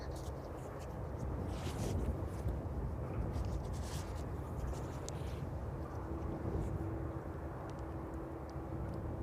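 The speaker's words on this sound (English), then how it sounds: "another regular visitor on the stream, the RVL Cessna in from the Isle of Man" An RVL Cessna light aircraft arriving from the Isle of Man at East Midlands Airport on an evening gives a steady, distant engine drone under wind noise, with a faint hum that holds through the end.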